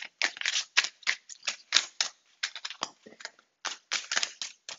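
Tarot cards being shuffled by hand in a quiet room, a rapid run of crisp riffling bursts and papery slaps with brief pauses between shuffles, close and moderately loud, no voices.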